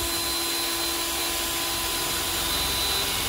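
A power drill bores a hole through a metal entry door to fit a handle pull, giving a steady, close, high-pitched grinding whine with no pauses.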